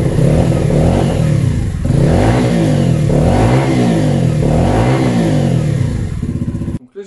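A Bullit 125 Hero motorcycle engine runs after a valve clearance adjustment, its loud close idle rising and falling in three or four steady revving swells before cutting off abruptly at the end.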